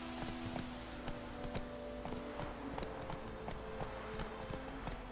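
Roach, the horse in The Witcher 3, gallops along at a quick, even pace, each hoofbeat a crisp clip-clop repeating alone over a faint steady background.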